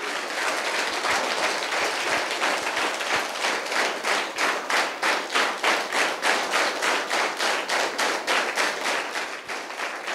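College students in an intermediate-college audience clap loudly and steadily for about ten seconds, the scattered applause settling into a rhythmic, unison beat partway through.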